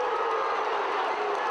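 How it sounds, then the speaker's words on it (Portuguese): Stadium crowd at a women's football match between Iranduba and Flamengo roars as a striker nearly scores, a dense steady wash of cheering heard from a distance, no clear voices on top. "O lance levantou a torcida."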